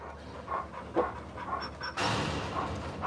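A dog pants in rapid, steady breaths after a brawl with another dog, fairly close and fairly quiet, with a brief louder burst of noise toward the end.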